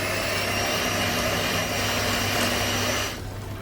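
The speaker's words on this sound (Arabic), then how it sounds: "راح أخفق الزبدة مع السكر البودرة" Electric hand mixer whipping butter with powdered sugar for Eid petit four cookies, a steady loud whirring drone that runs without a break for about three seconds and then cuts off abruptly, no talking.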